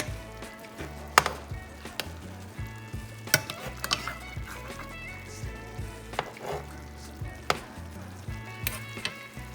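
A cod fillet sizzles in a pan while being basted with butter, garlic oil, garlic and thyme, a steady close frying hiss punctuated by spoon clinks and scrapes against the pan.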